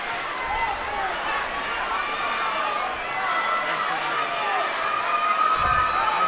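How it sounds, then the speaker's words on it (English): A crowd in a gym at a district final high school boys basketball game gives a sustained, dense roar and cheer that stays loud and even throughout, with a commentator's voice talking over it. "The crowd is energetic."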